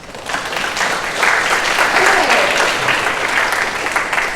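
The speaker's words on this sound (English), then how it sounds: "applause for the efforts" Steady applause from a seated group of junior debaters at an inter-school debating tournament final, sustained and dense throughout, with a voice briefly speaking over it.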